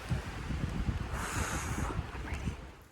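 Cold, gusty wind buffets the microphone with rough, blustery noise on a rocky Appalachian Trail climb, and a brief hiss of rain or spray rises in the middle.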